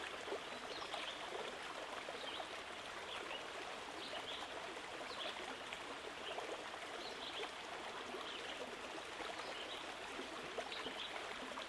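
Steady rushing and gurgling of a small, shallow river beside a walking trail, an even, close wash of moving water that holds constant throughout without any speech.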